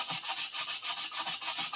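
Steady back-and-forth sanding of a Minamoto sujihiki knife blade being restored, a rhythmic raspy metal scrubbing about four strokes per second, close and continuous.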